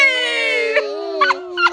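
A young child's drawn-out, wavering voice imitates a cow's moo, a sustained tonal call with a few short breaks.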